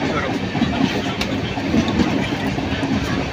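The Kamrup Express runs along the track, heard from on board as a steady, loud rumble and rush with a faint rhythmic rattle throughout.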